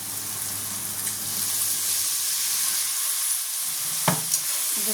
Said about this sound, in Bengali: আমি একটুখানি জল দিচ্ছি